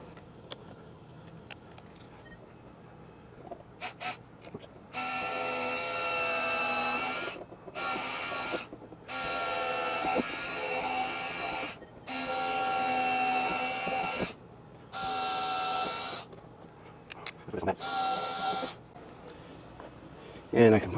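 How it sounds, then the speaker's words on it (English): A power drill pre-drills holes in wood during a minor RV repair at a state park, with several whirring bursts of a few seconds each separated by pauses and light handling noises, close and loud. "I think I'm going to see if I can pre-drill"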